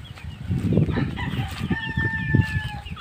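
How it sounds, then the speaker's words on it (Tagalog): Gamefowl chickens and their chicks fill the air with continuous clucking, rooster-like calls and thin high peeps, all close by on a farm. "dito ang mga sisiw yan ayan sila mga sisiw"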